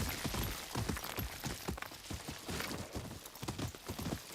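A horse's hooves clip-clop in steady, close, rhythmic beats as it moves through a Ghost of Yōtei game world, loud and unbroken by talk.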